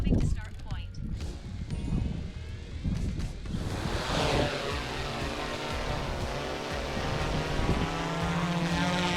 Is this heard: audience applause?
no